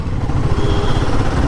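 A Royal Enfield Guerilla 450 motorcycle engine runs on the move, a loud, steady low rumble with rough mechanical clatter and wind noise, no talking.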